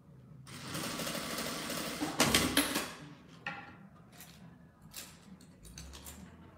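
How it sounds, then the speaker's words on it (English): A sewing machine top-stitching closed the opening of a fabric squeeze pouch, with several short bursts of rapid mechanical stitching separated by pauses, close and fairly quiet. "So I'm going to close it and just top stitch that opening close."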